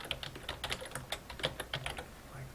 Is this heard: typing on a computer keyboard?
yes